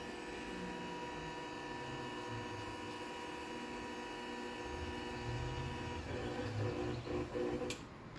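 A LiftMaster 2500B garage door opener runs at close range with a steady mechanical hum and whir, its drive noise holding level before a louder rattling stretch near the end as the travel finishes.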